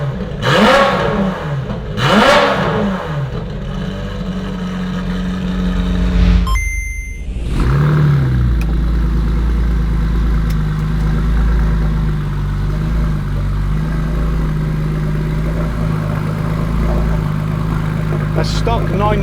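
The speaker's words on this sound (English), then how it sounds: "changing the exhaust to whatever aftermarket exhaust really opens up the car and makes it sound nasty and butch, just like this car." Porsche 993 with an aftermarket exhaust revving hard and close, with a sharp throttle blip rising to a loud roar, a brief lift, then sustained high revs over a deep rumble, with people talking over the engine.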